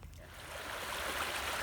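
Stream water flowing beside a shale trail in a park, a continuous close rushing and gurgling that stays fairly loud and even throughout, with no voices.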